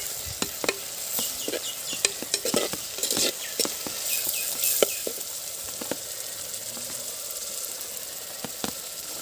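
Ginger garlic paste sautéing in a pan for a Chettinad country chicken gravy: close, constant sizzling broken by repeated metal spoon scrapes and clinks as it is stirred.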